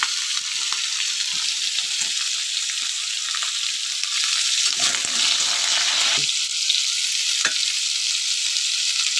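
Potato pieces frying in a pan with oil, a loud continuous close sizzle with occasional stirring scrapes and brief dips where the food is moved, no one speaking.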